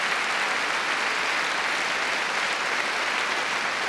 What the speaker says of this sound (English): And Ashkenazy then acknowledging his applause from the orchestra as well.